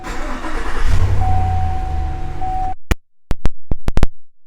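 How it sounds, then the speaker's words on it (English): Push-button engine start on a 2018 GMC Yukon XL: the engine cranks and catches into a steady idle with a sustained tone, then several sharp clicks follow after it cuts off, close and fairly loud. "Push button start."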